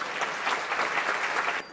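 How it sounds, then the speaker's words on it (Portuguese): An audience breaks into brief, dense applause, an even wash of clapping that holds steady and cuts off after under two seconds. "Palmas pro Xande."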